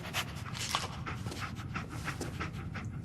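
Dog panting and sniffing in Fallout 4, rapid breathy huffs repeating steadily and close up over game background, continuous for a few seconds.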